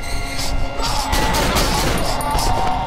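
Gunshots in the horror game Cry of Fear, a loud, dense run of firing and impacts with crashing thuds throughout, no talk.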